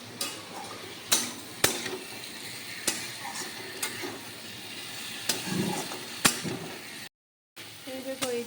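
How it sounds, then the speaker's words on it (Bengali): Vegetables are stirred and fried with spices in a pan, a quiet sizzle under repeated sharp scrapes and knocks of a spatula, irregular and close, with a brief silent gap near the end. "এইগুলি একসঙ্গে মশলার সঙ্গে একটু ভালো করে নেড়ে চেড়ে একটু ভাজা ভাজা করে নিচ্ছি।"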